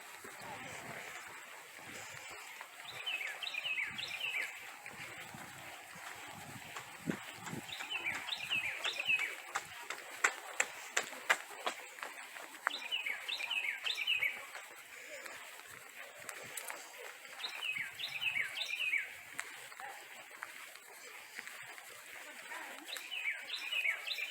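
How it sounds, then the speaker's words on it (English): Birds chirp and call repeatedly at a moderate distance along the entry path of First Landing State Park, with a steady low outdoor background and occasional faint rumbles. "Lots of birds."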